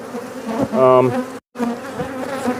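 Dense buzzing of many bees, a swelling insect hum with one louder close pass, briefly cut to silence before the drone resumes.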